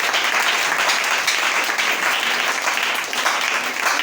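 Sustained audience applause filling a church, a dense, steady wash of clapping hands that holds at full loudness for the whole stretch with faint voices mixed in.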